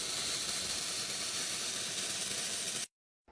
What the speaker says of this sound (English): Here I'm doing the final welding on the dump floor.